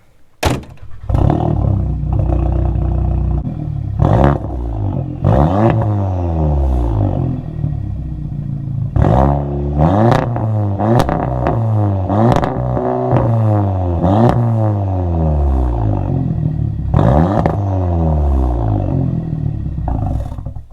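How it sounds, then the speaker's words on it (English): A VW Golf R engine turns over and catches, then is revved repeatedly, rising and falling in loud, close bursts throughout. "let's start it up for y'all and give y'all guys some revs"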